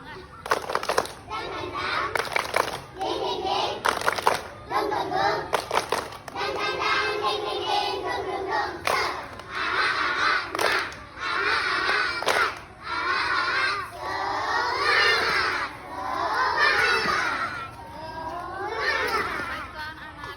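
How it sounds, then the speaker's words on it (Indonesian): Schoolchildren in a classroom chant and clap a rhythmic Indonesian spirit-clap routine together, loud, shouted voices broken by bursts of unison hand claps over about twenty seconds. "marilah sama-sama kita melakukan tepuk semangat"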